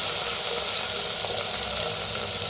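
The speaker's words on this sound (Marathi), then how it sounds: "हिंग आणि लसूण हिरवी मिरची चेचून घेतली होती ती वाटणं थोडंसं शिल्लक ठेवलं होतं. छान असं भाजून घेऊया." Crushed garlic and green chili paste with asafoetida roasting, a dense, even hiss of frying that stays loud and unbroken for the whole stretch, with no voices.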